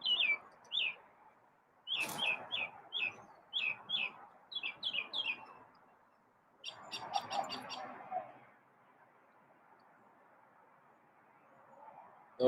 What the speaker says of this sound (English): Sarcastic birds.